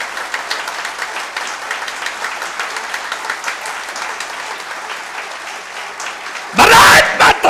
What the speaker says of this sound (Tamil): ஒரு நிமிடம் இடைவிடாது கைத்தட்டுங்கள்